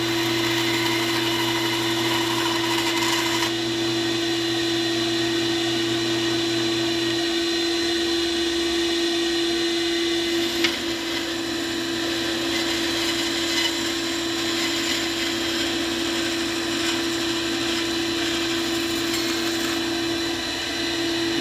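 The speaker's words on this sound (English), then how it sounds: "now I need to cut my mammoth ivory up into little rectangles" A power saw cuts mammoth ivory into small rectangles, giving a steady, loud, continuous whine that runs through the whole stretch with a faint high crackle of material being cut.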